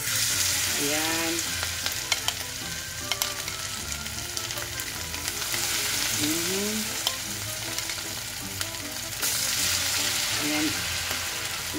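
Anchovy fritters (tortang dilis) sizzle steadily in oil in a pan, a constant crackling fry throughout, with a voice speaking briefly now and then over it.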